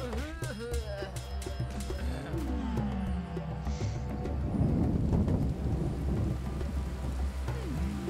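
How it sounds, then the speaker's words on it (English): Thunderstorm in the video game Kainga: Seeds of Civilization, with steady rain and low rumbling thunder swelling toward the middle, under game music and a voice. "It looks like rain and thunder this time."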